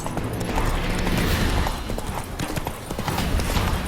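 Roach the horse gallops in The Witcher 3, a steady clatter of hooves, loud and close, with rumbling game ambience underneath.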